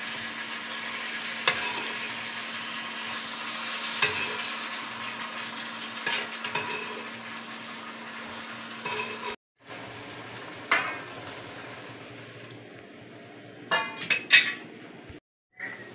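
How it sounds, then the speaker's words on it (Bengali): Fish sizzles steadily as it is sautéed in a pan for a village-style fish and bottle gourd dish, with occasional stirring scrapes and clinks of a utensil against the pan. "মাছ দিয়ে আমার কষানি হয়ে গেছে।"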